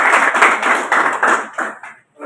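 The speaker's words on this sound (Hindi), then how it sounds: "जोरदार तालियां" Audience applause at a ceremony for the 66th foundation day of the National Board for Workers Education and Development, as the chief guest is honoured. The clapping comes in dense, pulsing waves for about two seconds, then tapers off and stops.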